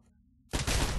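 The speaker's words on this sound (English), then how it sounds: "Kill the pilot with your smart pistol." A smart pistol firing in the Titanfall training course, a quiet lead-in followed by a sudden dense burst of rapid shots that fills the second half of the moment.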